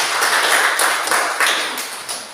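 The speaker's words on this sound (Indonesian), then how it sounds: "tepuk tangan" A classroom group bursts into applause, a dense, even patter of many hands clapping together at close range for a couple of seconds and slowly fading.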